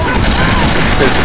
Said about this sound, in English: Okay, shoot the tank.